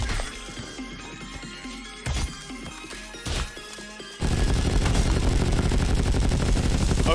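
Gunfire in Madness: Project Nexus: several sharp, isolated shots crack out at intervals, then give way to a loud, continuous rattle of rapid fire.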